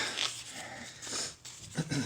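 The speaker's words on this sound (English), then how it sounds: "looks like the dogs are having big fun outside" Dogs play outdoors, panting, growling and giving short vocal bursts at a moderate distance amid faint background noise.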